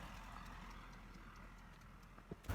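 Horses clip-clop along a road during a Gulmarg horse ride, faint hoof taps under a steady background hum, ending with a couple of louder close knocks.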